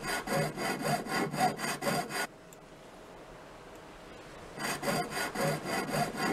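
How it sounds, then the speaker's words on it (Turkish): Rhythmic sawing strokes cut through a ship's hull in Ship Graveyard Simulator, a burst of about eight rasping passes, a quiet pause, then another run of strokes, close and loud with no talking. "Testere bitmeden şunu keselim işte."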